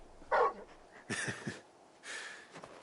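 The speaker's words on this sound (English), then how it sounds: "You're just a big puppy, aren't you? A very big puppy." Dog in the Final Fantasy XVI video game making a few short, soft barks and breathy panting sounds, near and fairly quiet, in brief bursts with pauses between.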